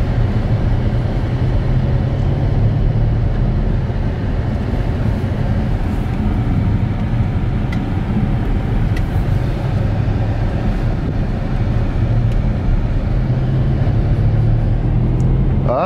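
Audi RS6 engine droning loudly inside the car as the exhaust valves open, a sustained deep roar that swells slightly toward the end, with no talk over it.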